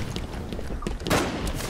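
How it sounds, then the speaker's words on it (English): A burst of gunfire crackles through a busy Halo 5 Infection match, a dense, noisy volley that rises suddenly amid ongoing game sounds and soft background chatter. "I heard gunshots."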